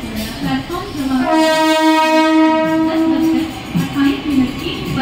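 Mumbai local train pulls into a station platform, sounding a long, loud, steady horn blast over rumbling wheels, with station announcements and crowd noise around it.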